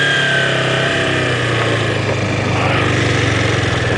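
A motorcycle engine is held at high revs during wheelie practice from the rider's point of view, giving a loud, steady, buzzing drone with a slight rise in pitch and no break.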